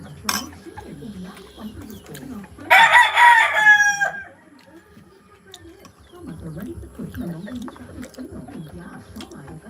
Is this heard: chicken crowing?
yes